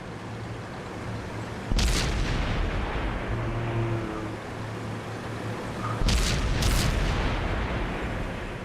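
Tank battle in a video game tournament match, with two heavy cannon booms at separate moments over a constant low engine rumble, each shot followed by a long rolling decay.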